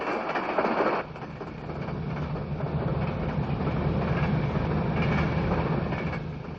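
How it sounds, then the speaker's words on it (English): A northbound freight train led by four diesel locomotives, one in an experimental Burlington Northern merger paint scheme, rumbles past at Lisle, Illinois, a steady loud roll with rhythmic wheel clatter. "A northbound freight is coming through Lisle, Illinois with 4 locomotives"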